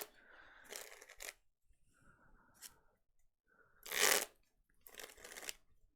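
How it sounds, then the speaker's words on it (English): Pokémon trading cards being power shuffled, several loud bursts of riffling and cascading cards separated by short pauses, close up with no talk. "Give it a nice power shuffle."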